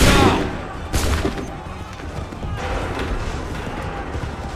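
Musket volley from a line of soldiers in the video game Assassin's Creed 3, a loud burst at the start and another crack about a second later, fading into a rumbling battlefield din.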